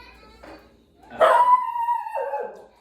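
A dog barks indoors, one short yip and then a louder drawn-out bark that slides into a whine, close by, with no talk over it.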